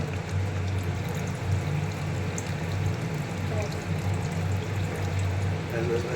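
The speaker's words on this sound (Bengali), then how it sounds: "এবার দিয়ে দেবো আমরা জল এই হলো জল" Water pours steadily into a pan of shahi paneer gravy, a continuous close trickling and splashing that runs without break under light background noise.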